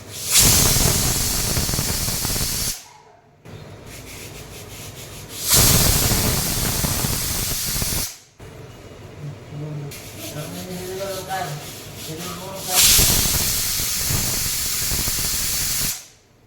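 A pressure cooker cooking rice whistles and vents steam in three loud, sustained hissing bursts, each a few seconds long, separated by quieter stretches of faint kitchen noise.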